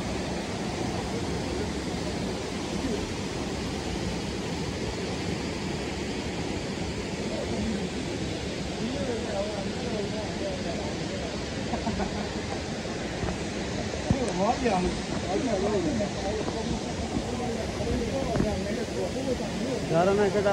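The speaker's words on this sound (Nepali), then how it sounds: "यता झरना ढुङ्गाबाट बग्दै गएको रहेछ यो झरना त" Kanching waterfall in Selangor, Malaysia, pours over rocks as a steady, broadband rush that holds for the whole stretch, a little louder near the end, with faint voices mixed into the roar.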